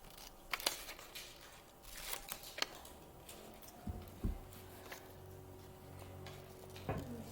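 Scissors snipping paper word cards apart: a few quiet, crisp cuts spaced irregularly, with faint handling sounds in between and no talking.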